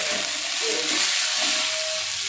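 Boiled chowmein noodles frying in a hot pan, a dense close sizzle that holds steady with soft stirring and scraping sounds running through it, and no voices.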